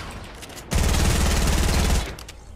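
Rapid, dense burst of gunfire from skeet shooting in Fortnite, a loud sustained fusillade lasting over a second before cutting off, with quieter game sounds around it.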